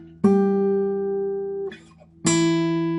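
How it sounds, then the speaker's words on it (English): Two sustained guitar octaves ring out, each struck sharply and left to sustain, with a brief scratchy string noise between them. "I just played 2 octaves there."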